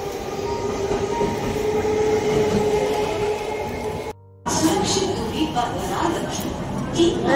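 A commuter train pulls into Barrackpore station with a loud, continuous rumble and rattle of carriages on the rails and faint wheel squeal, briefly cutting out before the rolling noise resumes while people talk nearby.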